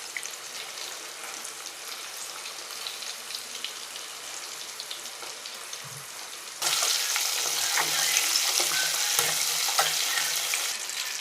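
Pieces for chapala curry fry in hot oil with a steady crackling sizzle that jumps noticeably louder partway through as more pieces go into the pan.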